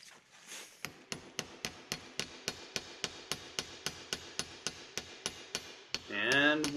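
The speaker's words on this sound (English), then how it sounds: "I think we're ready to give this thing a love tap with a hammer." A hammer taps a part into place on an antique Kearney & Tracker horizontal mill: around seventeen sharp, evenly spaced knocks, close and clear, followed by a brief tonal ringing at the end.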